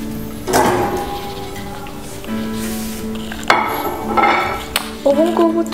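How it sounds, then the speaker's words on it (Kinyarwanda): Meat goes into a metal cooking pot while preparing agatogo, a plantain stew, giving a few clanks and scrapes of metal with short knocks and pauses between them. "Dushyiremo n'inyama zacu."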